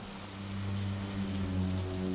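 Steady rain falls outdoors on a stormy evening, a soft continuous hiss with a low droning hum underneath, moderately quiet and unbroken by voices.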